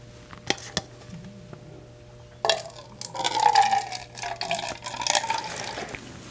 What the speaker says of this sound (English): This way I can push air in there and flush out the remainder of the water.